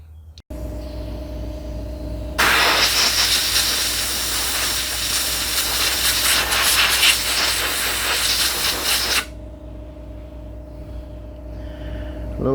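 Coolant hisses out through a crack in a 2012 Camaro radiator in a loud, steady rush for several seconds before cutting off, over a low engine-like hum.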